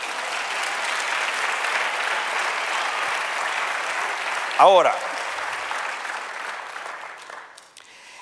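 A church congregation applauds in sustained, dense clapping that fills the room for several seconds and then tapers off, with a voice briefly speaking over it.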